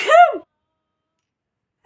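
A single sneeze, short and sharp at the start with a falling tonal burst, then silence.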